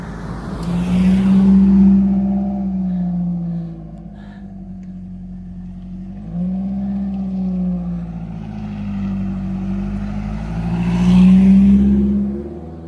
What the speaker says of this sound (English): Oh, car's coming up.